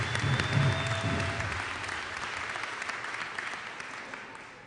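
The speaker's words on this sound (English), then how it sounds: "Please give them a round of applause." Audience at a community and tribal college commencement applauds the graduates, steady clapping that starts strong and then holds at a slightly lower level for several seconds, with no talk over it.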